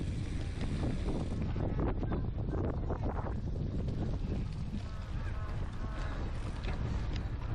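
Heavy headwind buffets the microphone on a cyclocross bike during a race, a loud continuous roaring rumble with gusty surges and no clear pauses.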